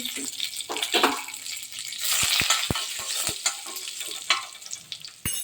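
Chili powder and curry leaves frying in hot oil in a pan, a steady close sizzle broken by short sharp crackles and pops, with some stirring and a faint tap-water wash in the background.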